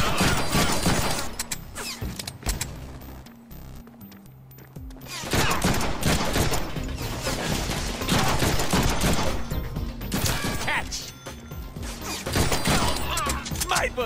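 Rapid gunfire from the Deadpool video game, dense bursts of loud automatic shots rattling close, separated by a short lull before the firing resumes in heavy volleys.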